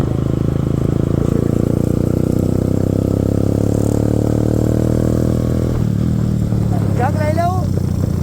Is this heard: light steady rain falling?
no